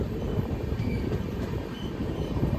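The Kulik Express rumbles into Bhaluka Road station, a steady, loud low-frequency roar of train wagons rolling on the rails that holds at an even level throughout, with no voices.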